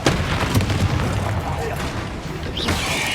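Repeated booming blasts from Confringo spells in the Hogwarts Legacy video game, a dense run of loud impacts over continuous spell effects, with a voice calling out over the action.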